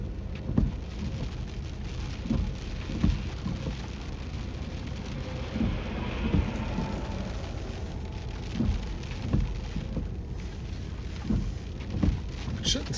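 Steady rain falls during a Texas storm chase, a constant hiss of drops drumming on a vehicle, with occasional heavier thumps and a faint low rumble underneath.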